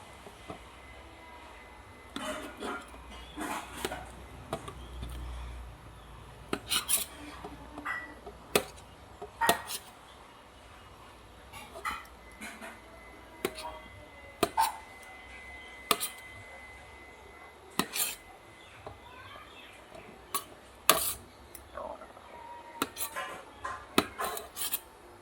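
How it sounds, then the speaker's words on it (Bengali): Paneer is cut into pieces on a board, a series of irregular, sharp knife taps and soft scraping sounds, close and fairly quiet, spread across the whole stretch. "পনিরটা টুকরা করে নিই।"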